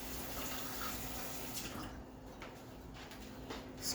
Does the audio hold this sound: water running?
yes